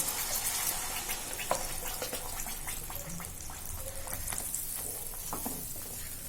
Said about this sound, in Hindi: अब हमें प्यूरी को इसमें पलट देना है आस्ते से।